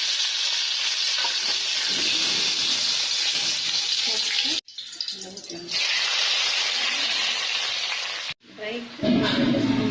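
Curry leaves hit hot oil in a pan while a ginger dry prawn fry is cooked, giving a loud, close, crackling hiss. The sizzle drops out briefly twice and then surges back.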